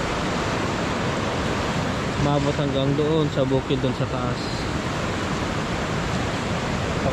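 Powerful floodwater after Typhoon Pepito rushes in a steady, loud roar through a rural province, with someone speaking over it partway through.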